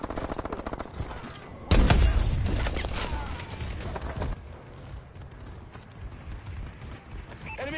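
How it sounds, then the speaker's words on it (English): Video game bombing run with heavy gunfire: a sudden loud blast of explosions and rapid shots erupts after a quieter opening, then rumbling bursts and scattered fire continue at a lower level. "Enemy bombing run incoming!"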